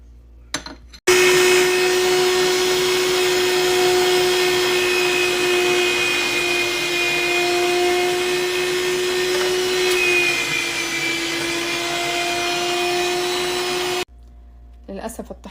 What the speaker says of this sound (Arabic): للأسف الطحانة اللي عندي شوية تعيسة